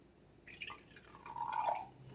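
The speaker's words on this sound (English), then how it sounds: "We're going to put us in a little splash of apple cider." A small splash of apple cider drips and trickles into a bowl of baconaise, a few light liquid drops followed by a short pouring gurgle, close and soft.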